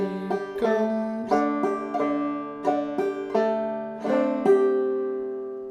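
Clawhammer banjo plucking the melody of She'll Be Comin' Round the Mountain, bright repeated notes and brushed strums in an even rhythm, close and moderately loud, the final note ringing out alone.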